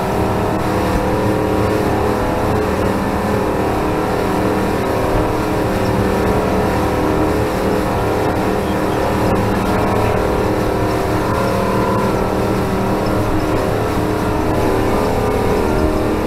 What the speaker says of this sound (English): We have never been full throttle before.